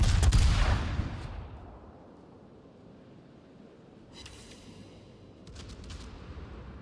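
Naval gunfire in World of Warships opens with a loud booming salvo that rolls away, followed later by fainter distant gun reports over a low ocean rumble.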